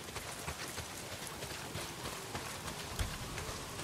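Steady heavy rain pours down in Days Gone, a dense, even hiss of drops drumming on surfaces throughout, with no voices over it.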